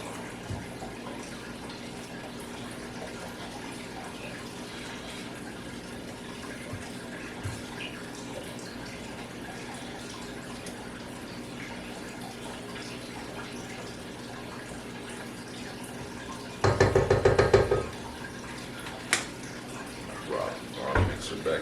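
Mixing bowls rinsed under a running tap while making Oreo cheesecake: a short burst of splashing water near the end, over a quiet kitchen background with faint knocks and clatter.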